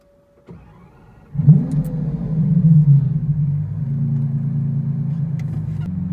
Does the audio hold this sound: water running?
no